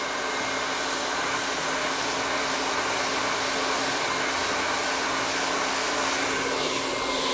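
A hair dryer runs steadily and loudly throughout, blow-drying hair with a constant airy whoosh and motor hum, uninterrupted and close.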